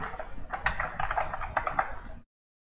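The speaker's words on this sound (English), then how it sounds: "click on the keyboard" A computer keyboard clatters with quick irregular key clicks, close and crisp, for about two seconds before cutting to silence.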